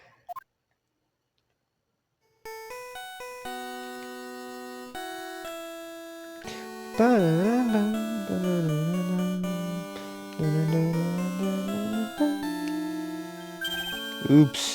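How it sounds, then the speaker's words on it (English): A phone ringtone plays the Phoenix Wright video game theme as a clear, loud electronic melody that begins after a brief silence and keeps going, with voices talking over it partway through. "Sorry, that's my phone."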